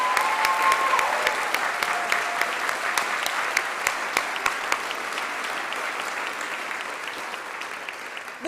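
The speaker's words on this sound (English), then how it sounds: "Audience, could we give one more round of applause for all of the awards students received tonight?" Audience applause fills a senior awards ceremony, a steady dense clapping crowd sustained throughout with no talking over it.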